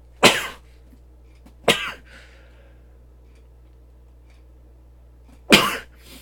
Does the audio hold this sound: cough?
yes